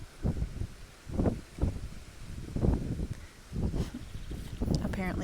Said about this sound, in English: apparently it's very windy